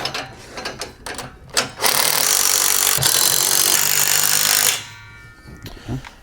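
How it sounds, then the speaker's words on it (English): A 9/16 socket wrench tightening U-bolts on a Malone MicroSport overland tent trailer: a few quick ratcheting clicks, then a sustained rasping ratchet run of about three seconds, followed by a few more scattered clicks, close up. "Back to the 9/16 and tighten up these U-bolts."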